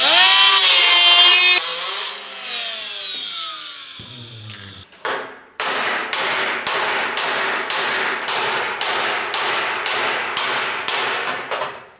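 A cutting tool slices into the stretched sheet metal of a 1967 Chevrolet C10 truck fender: a loud, ringing high whine first, then a long run of rhythmic, evenly spaced rasping strokes, close up with no talking.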